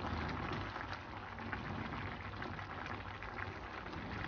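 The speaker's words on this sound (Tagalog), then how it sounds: "kumukulo na" A pot of vegetables, squash and potatoes among them, boiling steadily: a faint, continuous bubbling and seething hiss with no talking.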